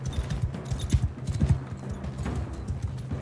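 Horse hooves gallop in the video game Mount & Blade II Bannerlord, a quick uneven clip-clop at moderate volume over faint background game noise.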